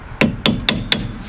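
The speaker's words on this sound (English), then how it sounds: "You want to get the pads in as close as possible, so hammer time." Four sharp metallic hammer strikes on the brake pads of a 1998–2004 Ford Focus drum brake assembly, evenly spaced about a quarter second apart, close and loud with bright ringing after each blow.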